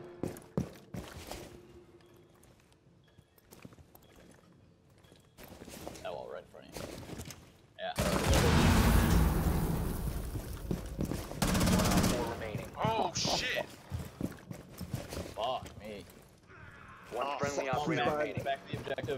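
Gunfire in Rainbow Six Siege crackles in a dense burst of rapid shots mid-round, loud and close, surrounded by lighter scattered shots and game noise, with players talking over parts of the action.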